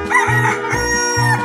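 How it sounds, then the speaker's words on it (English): A rooster crows loudly and close, its drawn-out cock-a-doodle-doo calls repeating over a steady musical backing. "Chicken."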